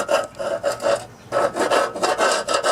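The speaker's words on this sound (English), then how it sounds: "to scrape it I use, you know, a putty knife or this little chisel like this" Putty knife or small chisel scraping crusted debris off a rusty mower deck, repeated rasping strokes in an uneven rhythm, close and fairly loud, with no talking.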